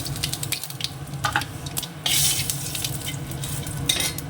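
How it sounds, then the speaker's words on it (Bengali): Dried red chillies, cumin and bay leaves frying in hot oil, giving a soft, steady sizzle with scattered spoon taps and brief louder bursts of crackling. "এবার তেলের মধ্যে দিয়ে দেবো হচ্ছে দুটো শুকনো লঙ্কা একটু জিরে দুটো তেজপাতা"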